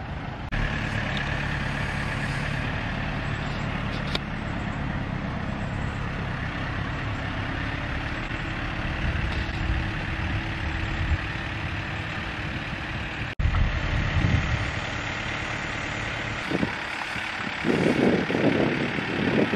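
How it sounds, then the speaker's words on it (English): A heavy tractor engine rumbles steadily nearby while ripping out fence posts, with a sudden clunk partway through and a rougher, shifting engine strain near the end. "he brought his tractor over here and is ripping out the post of the fence"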